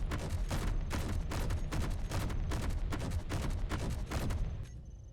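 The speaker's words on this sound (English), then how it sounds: "Why are my turrets shooting when they're off?" Turrets in the Space Engineers video game fire loud, rapid bursts of repeated shots in a fast, regular rhythm, then stop abruptly near the end.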